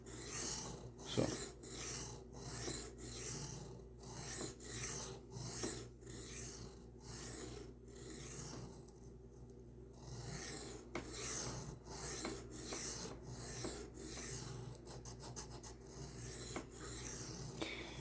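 A knife is drawn over a 300 grit diamond reprofiling plate in a steady run of close, dry rasping strokes, each a short scrape, repeating briskly with a brief pause partway through.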